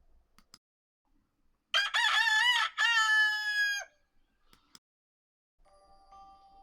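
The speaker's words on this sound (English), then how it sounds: "By day, the rooster rises with the sun." A rooster gives one loud, clear crow in two drawn-out parts, close and alone against near silence, with a faint ringing tone near the end.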